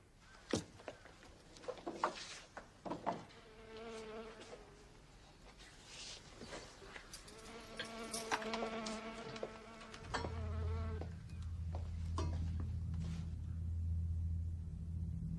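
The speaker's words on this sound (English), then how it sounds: "should you use so much of the food meant for you to attract insects?" Flies attracted by food buzz close by in a quiet interior setting, their whining hum rising and falling in several overlapping passes, later joined by a low steady drone.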